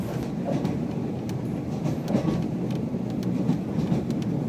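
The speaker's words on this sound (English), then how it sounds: "I had to show you guys the sleeper train that I got to go on" A steady low rumble of a sleeper train rolling through the Thai countryside, with faint periodic rattles and clicks from the carriage, no voices.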